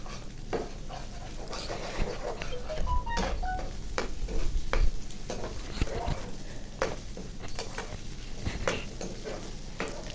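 Egg being stirred into frying vegetable noodle mixture with chicken balls, a steady sizzle beneath repeated scraping and stirring strokes against the pan, with occasional sharper clinks, close and moderately loud.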